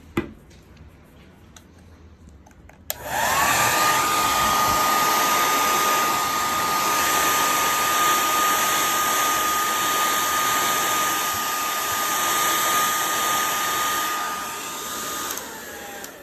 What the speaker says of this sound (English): now I'm gonna take the hair dryer